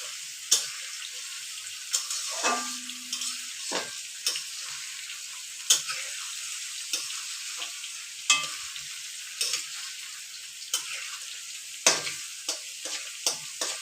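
Capsicum, carrot and beans being stirred in a frying pan, with a steady soft sizzle and repeated sharp scrapes and clicks of the spatula at an irregular pace, close and moderately loud, with no talking.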